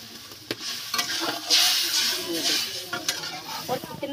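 Fish masala cooking on a stove as juice is poured into the red fried spices, a close bright sizzle and hiss with stirring scrapes and a brief voice.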